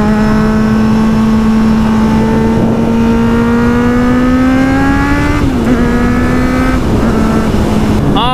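A motorcycle engine drones steadily while riding on a road, loud and close with a smooth rising pitch as it accelerates, a brief dip around a gear change, then holding speed; no talking.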